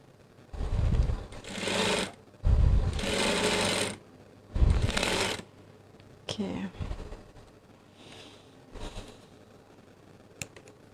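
A sewing machine runs in several bursts of coarse, long stitching along a folded hem of a curtain, each run lasting about a second, with brief quiet pauses and soft handling noises between them.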